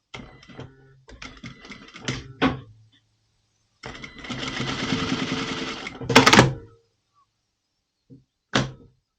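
A sewing machine runs a long 4mm stitch along the edge of a seam on a women's functional top, in several bursts of whirring with short pauses and a couple of clicks.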